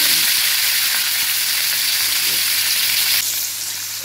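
Okra, water spinach and squash fry in hot oil, giving a loud, dense, continuous sizzle close up that eases slightly toward the end.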